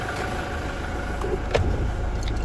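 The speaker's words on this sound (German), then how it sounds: "der Motor läuft noch." A 2024 Toyota Hilux camper's engine idles steadily with a low, continuous rumble, with a brief clunk partway through.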